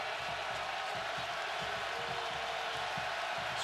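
A big stadium crowd of Wisconsin Badgers fans roars steadily at a college football game against LSU, a dense, loud and continuous wash of cheering with no pauses.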